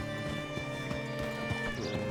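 A horse's hooves clip-clop in Red Dead Redemption 2 on PS5, with a brief whinny. The steps are close and rhythmic over a sustained musical background.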